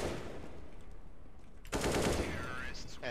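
Automatic gunfire in a shooter video game, a quiet stretch followed by a sudden loud burst of rapid shots.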